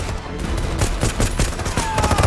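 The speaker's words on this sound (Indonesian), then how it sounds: "baku tembak dengan pihak Junmar pun tidak terelakkan" Gunfire in a film shootout between a rescue team and armed opponents, with dense overlapping shots cracking in rapid bursts throughout, loud and close with no talking.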